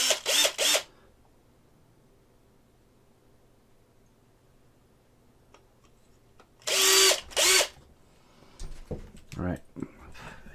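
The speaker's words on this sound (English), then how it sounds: "Just gonna drill the arm." Drilling into the arm of a resin model kit of a Predator figure, in three short bursts of whining power drill, then two more longer bursts, each separated by quiet, with some handling and a voice afterward.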